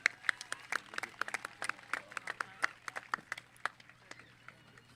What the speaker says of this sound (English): Let's give these outstanding individuals a round of applause.